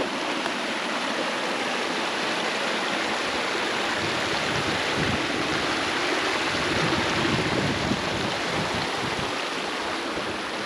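Hot creek near Imperial Geyser flowing steadily, a continuous broad rushing wash of water, close and fairly loud, with no voices over it.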